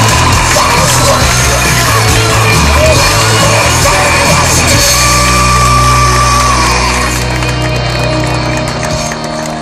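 An audience at the Scania Driver Competitions 2012 awards ceremony in Bulgaria applauds and cheers the winner, with loud, continuous clapping, shouts and whoops from a large crowd that hold steady throughout before easing slightly at the end.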